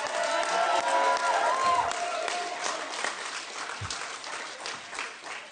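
Audience at a San Francisco city career center anniversary ceremony applauds steadily throughout, a dense wash of clapping with some crowd voices mixed in, moderately loud and sustained.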